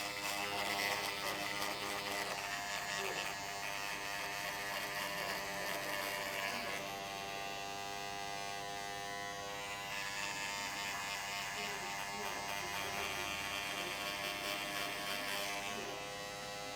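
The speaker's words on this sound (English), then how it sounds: "A little bit of clipper over comb just to go through and shorten that area" Electric hair clippers cutting curly hair clipper-over-comb, a close continuous buzzing hum that shifts in tone as the blades move through the hair, with no talking.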